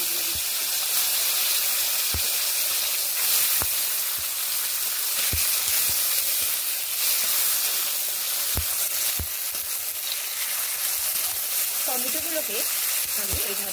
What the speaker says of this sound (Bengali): টমেটোগুলোকে আমি এইভাবে ফোড়নের সঙ্গে ভেজে দিচ্ছি।